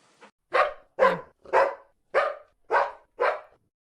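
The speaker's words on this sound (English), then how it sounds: "I can force him to bark" A virtual Dalmatian puppy in the Second Life game barks six times in a steady, evenly spaced series, loud and close with short silences between barks.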